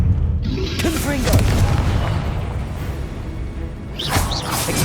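In Hogwarts Legacy, the Confringo spell's fiery blast lands as a deep boom with whooshing debris, loud and close, set against game music, with a brief spoken cue in the mix.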